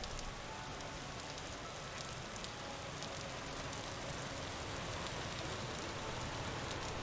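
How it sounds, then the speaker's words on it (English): Heavy rain pours in the survival game Vintage Story, a continuous, even hiss of rainfall with faint scattered drop ticks, steady and unbroken with no talking. "Wow, it's raining hard."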